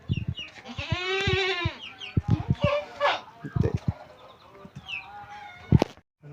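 A goat bleats in a Konkan village, its wavering cries rising among other farmyard animal calls and nearby voices, with scattered knocks and rustles around them.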